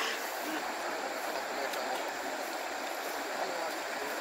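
Water flowing steadily in an igarapé, a small forest stream in Maranhão, a continuous broad rushing hiss with no pauses, fairly close and the only sound present.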